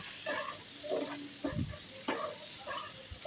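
Cumin paste fried and stirred in a pan, heard as a quiet, low-level sizzle with several soft scraping stirs spaced through the few seconds, fairly faint and without speech.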